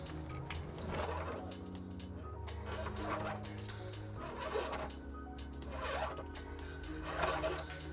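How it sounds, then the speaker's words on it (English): Zip ties ratcheting tight to fasten a trailer power wire to lines under a 2016 Chevrolet Malibu, a series of short raspy zips repeating roughly every second, close by over a steady low hum. "We're going to secure the power wire to these lines with some zip ties"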